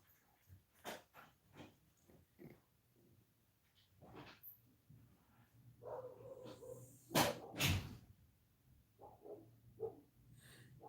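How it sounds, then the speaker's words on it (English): Dogs barking and snorting indoors at moderate distance, a scattered run of short woofs and breathy huffs, with a louder pair of barks near the middle. "Barking dogs."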